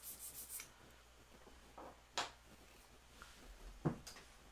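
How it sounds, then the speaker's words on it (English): Rosin rubbed back and forth along a Pickaso guitar micro bow, a quiet dry scraping in a few short strokes with brief louder rasps, heard alone without speech. "you're going to take your bow and kind of rub it up and down to get some of that rosin"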